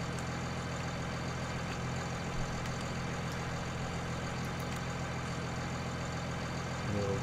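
A New Holland T7 tractor engine idling in Farming Simulator 19, a steady low rumbling drone held evenly throughout at moderate volume, with no speech over it.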